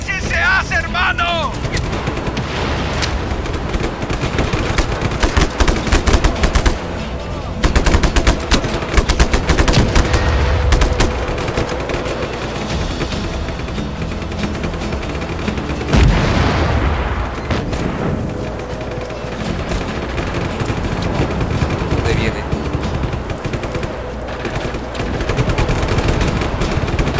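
Sustained automatic gunfire and heavy booms from the Just Cause 3 video game roar loudly and almost continuously, with dense rapid bursts and a few deeper blasts.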